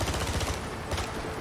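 Enemy gunfire in the James Bond 007: Blood Stone video game comes as rapid, continuous bursts of shots, loud and dense across the short span.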